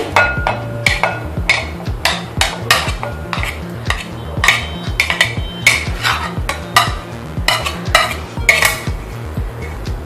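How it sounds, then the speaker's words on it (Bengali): Paneer pieces are dropped one by one into a large bowl, giving a steady run of close, sharp clinks and knocks over a low background hum, with no talking. "প্রথমে আমি একটা বড় বোল নিয়েছি, তার মধ্যে পনিরের টুকরোগুলো দিয়ে দিচ্ছি।"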